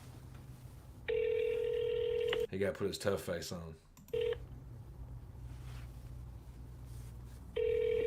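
A telephone rings during a phone call, with repeated electronic ringing tones separated by pauses and someone talking between the rings.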